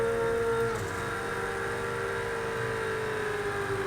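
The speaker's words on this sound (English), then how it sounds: "You can just hear the car bog down through the S's." A race car engine in Project CARS 2 drones loudly at steady revs through the S-curves at Watkins Glen during an IMSA GTD race, its pitch sagging slightly as the car bogs down, with no talking.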